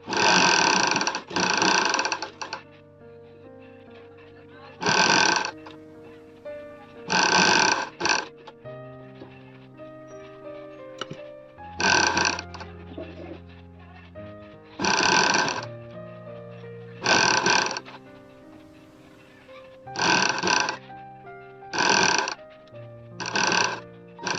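Sewing machine stitching nighty fabric in short whirring bursts of about a second each, roughly a dozen runs separated by quiet pauses, close by, with a faint hum between runs.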